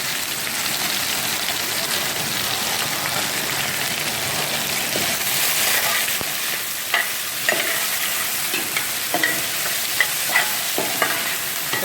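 Chopped onions and green chillies frying in a pan with ginger and garlic for a mushroom coconut curry: a loud, dense, continuous sizzle close up, later joined by sharp scraping and clinking stirs.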